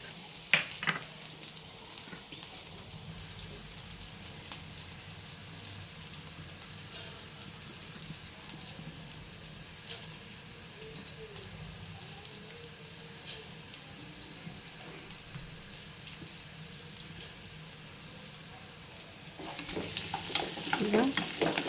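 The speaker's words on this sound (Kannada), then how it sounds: "ಸಾಸಿವೆ ಜೀರಿಗೆ ಒಗ್ಗರಣೆ ಕೊಡ್ತೇನೆ ರೀ ಅದಕ್ಕೆ" Mustard seeds and cumin crackle and sizzle in plenty of hot oil as tempering for raw mango sambar, a steady soft hiss with faint pops, growing louder and busier in the final seconds, with no talking.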